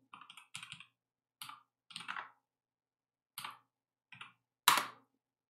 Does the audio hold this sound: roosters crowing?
no